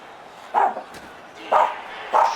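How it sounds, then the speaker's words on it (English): A dog barks three times in sharp, separate bursts, fairly close, with pauses between them, over a quiet background. "Doggy no barking."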